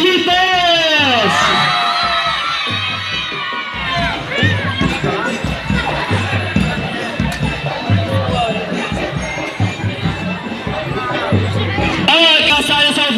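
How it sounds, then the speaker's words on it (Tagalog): A crowd of schoolchildren at a district elementary athletic meet shouts and cheers loudly, with rising whoops and rhythmic chanting over a steady drumbeat while an announcer's voice carries through. "Nagpapatalo ba sa sigawan ang JJ"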